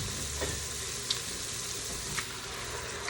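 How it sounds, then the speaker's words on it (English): Chopped onions and sweet peppers sauté in an Instant Pot with a soft, continuous sizzle. A few light stirring clicks come through, and no one speaks. "Next, I have my cut up sweet peppers. We're just gonna keep this all sauteing."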